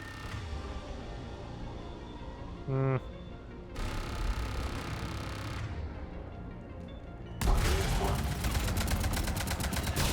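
Gunfire aimed at a turret in Mass Effect 3 comes in bursts of rapid shots, growing dense and loud toward the end over a constant game background.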